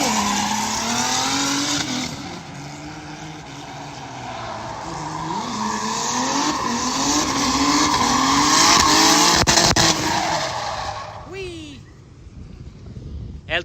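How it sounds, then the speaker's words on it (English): A drift car at the Cyprus Drift Championship spins out, engine revving and tires squealing loudly in long wavering screeches, while a commentator talks over it; the noise fades near the end. "he's gone into a spin for zone 5"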